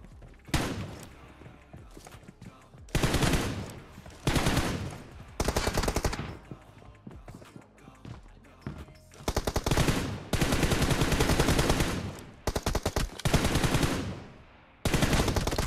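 Bursts of automatic gunfire from a player's weapon in a first-person shooter video game, loud rapid strings of shots in several separate bursts, with quieter game ambience between them.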